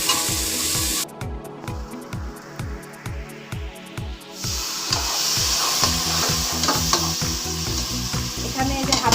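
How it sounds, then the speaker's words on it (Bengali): Spices frying in a pan with ginger garlic paste, turmeric and chili powder: loud steady sizzling with rhythmic scraping strokes of a spoon stirring, the hiss swelling midway as the mixture heats. "মশলাগুলো এখন ভেজে নেব।"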